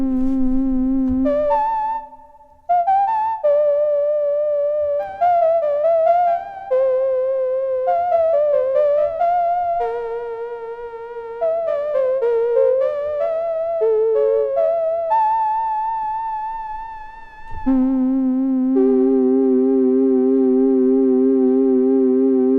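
A soft, breathy Mellotron-style synthesized flute made in Serum plays a slow melody of sustained notes with gentle pitch bends, each note trailing into a wash of reverb.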